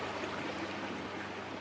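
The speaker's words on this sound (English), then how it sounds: "I could have a waterfall like this" Water pours steadily from a waterfall into a natural swimming pond, a continuous broad rushing and splashing heard close up with no other sounds.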